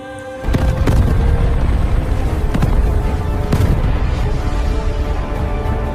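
Blasts from explosives destroying eleven MiG fighter jets parked at an airport, a sudden loud boom followed by a dense, rumbling roar with several sharp cracks layered over sustained noise.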